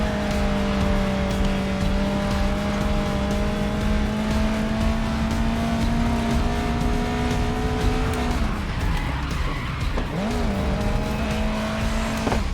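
Race car engine in the racing video game GRID Legends, a loud, steady droning note that holds through most of the clip, then breaks up and shifts pitch around a gear change near the end. No talking.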